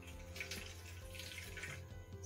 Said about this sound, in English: we can take that normal water and we can pour here